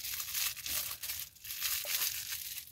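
Close, loud crinkling and crumpling of a plastic bag being handled while unpacking a premium subscription box, continuous irregular rustles with no talk.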